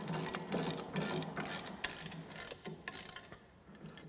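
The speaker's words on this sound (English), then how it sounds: "we're going to go ahead and tighten these down to 17 foot-pounds." Hand ratchet tightening nuts on the mounting plate of a Kolpin SwitchBlade UTV snow plow, a steady close mechanical clicking and whirring that eases toward the end; no voices.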